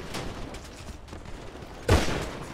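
Gunfire in the game GTA V, with scattered bursts of shots crackling at moderate distance and one sharper, louder blast near the end, set against steady background game noise.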